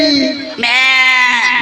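A comic goat bleat used as a sound effect in a Maithili folk nach stage performance: one loud, wavering, nasal bleat lasting under two seconds, close and prominent.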